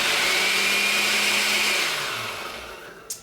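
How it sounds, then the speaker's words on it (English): A blender mixing cheese bread batter whirs loudly and steadily, then winds down and slows to a stop near the end with a brief click. "you want to pulse the blender a bit, or blend it up just a bit"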